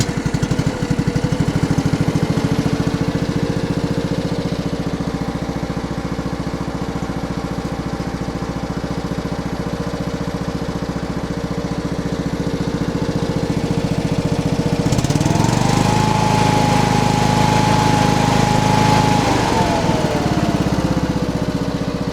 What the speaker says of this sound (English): We're gonna give it another start, just see how it's sounding now that everything's back together.